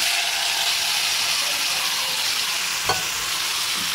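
Bottle gourd frying in a pan after prawns makes a dense, continuous hiss and sizzle, broken once by a brief utensil clink.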